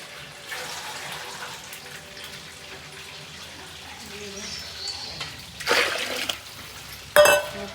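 Water runs and splashes into a DelishUp cooking machine as it is rinsed for cleaning, a moderate trickling pour under a person's talk, with louder splashing bursts toward the end.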